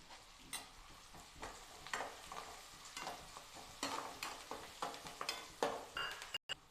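Curry leaves sizzle and crackle in hot tempering oil for capsicum chitranna, a steady hiss broken by sharp pops and stirring scrapes, close and fairly quiet with no talk.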